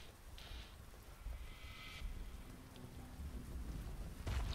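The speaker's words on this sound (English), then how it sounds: "There's the Herald of Thunder going off." Herald of Thunder skill in a video game firing on the Shipyard map, with crackling thunder-like bursts over a steady rain-like hiss that recur in short clusters, the last one louder.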